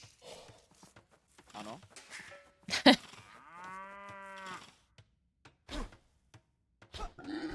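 A cow moos in a video game, one drawn-out harmonic call in the middle of excited commentary from several voices talking over game sounds.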